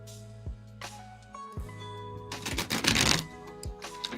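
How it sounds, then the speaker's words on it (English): Tarot cards are riffled and shuffled in quick, soft bursts, with a few light taps and clacks in between, close and fairly quiet. "I forgot how hard these cards are to shuffle."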